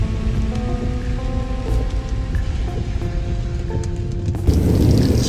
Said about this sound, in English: Yo, what kind of storm is this?